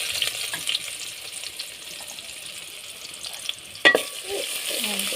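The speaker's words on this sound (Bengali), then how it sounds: "পেঁয়াজ দিয়ে দিয়েছি।" Onions fry in a pan on a clay stove, a soft, fairly faint sizzle running throughout, broken near the end by a sharp utensil clink and some stirring.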